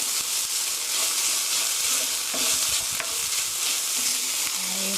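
A teaspoon of white sugar stirred into mapo tofu in a hot pan: continuous close sizzling with scattered spatula scrapes and clicks, no talking.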